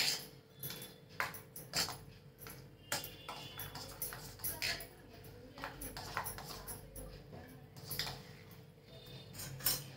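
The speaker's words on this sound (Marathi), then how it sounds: "हलवून घेते चांगलं." A spoon stirs sweet corn raita seasoned with black pepper in a bowl, giving faint, irregular light clinks and scrapes against a soft, quiet background.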